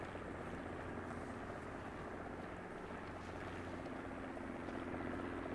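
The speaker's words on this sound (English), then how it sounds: "Except the helicopter's coming in." A medical evacuation helicopter approaching during a Marine operation, a steady low droning rotor and engine rumble that holds evenly throughout, fairly distant and unbroken, with no voices over it.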